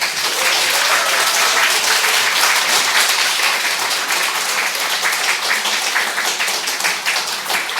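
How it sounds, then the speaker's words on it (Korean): A church congregation gives loud, sustained applause in welcome as the pastor comes forward to preach, a dense wash of many hands clapping without a break. "큰 박수로 환영해 주시면 감사하겠습니다"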